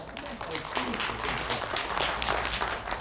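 Audience applause at a Korean economics lecture hall, a dense steady wash of clapping lasting throughout, fairly loud and close, with cheering or voices mixed underneath.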